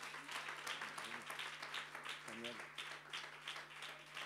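A church congregation applauding at a worship service, heard as dense, continuous clapping that stays fairly even in loudness, with voices calling out over it.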